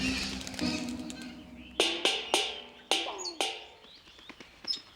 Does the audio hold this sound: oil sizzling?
no